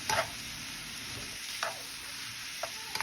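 Shrimp and sausage with vegetables stirred around a hot sizzling skillet, a steady broad frying hiss with a few sharp scraping clatters of the utensil against the pan.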